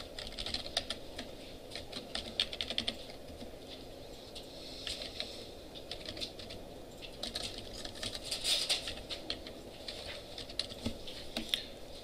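Fast, light typing on a computer keyboard entering login details, irregular bursts of key clicks continuing throughout at close range, fairly quiet, with no talk.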